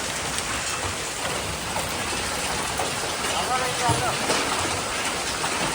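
Heavy hailstorm at a home, hailstones pelting down: a dense, continuous hiss and patter of impacts across the surfaces, loud and unbroken, with voices faintly mixed in.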